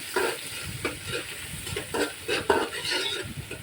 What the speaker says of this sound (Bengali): পেঁয়াজ দিয়ে তারপরে সেখানে কিছু তেজপাতা, দারচিনি, এলাচ দিয়ে দেওয়া হলো। এই তো এখন এগুলো নাড়া হচ্ছে